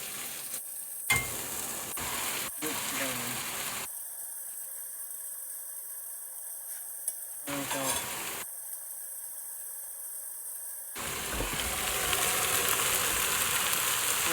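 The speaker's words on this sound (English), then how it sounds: "Alfie's just breaking up the mince now, and we'll get that fried up in with the onions" Mince browns with onions in a pan for a cottage pie, a soft steady sizzle with faint stirring and scraping, broken by quiet stretches before the frying noise swells louder toward the end.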